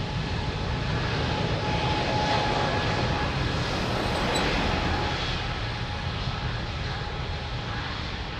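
A jet airliner taking off from runway 02 at Lisbon Airport, a steady broadband engine roar holding loud and constant throughout, heard from the airfield side with no voices.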